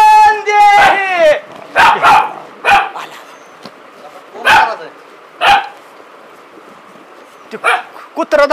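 A dog at a house door barks in several sharp bursts spread through the scene, loud and close, with people talking over and between the barks.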